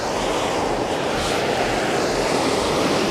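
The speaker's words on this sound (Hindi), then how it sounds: "इतना तेज़ गर्म पानी इसके अंदर से निकल रहा है।" Hot spring water gushes out of the ground in a constant, loud, hissing rush that stays steady and close the whole time. Only the flow is heard, with no voices.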